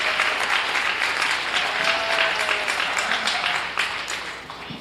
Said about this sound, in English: So if we could give her a round of applause,